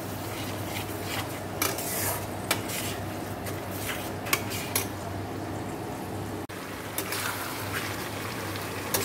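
Masala for a meat curry fries in a pan under steady stirring, a continuous close sizzle broken by scattered clinks and scrapes of a spoon against the metal.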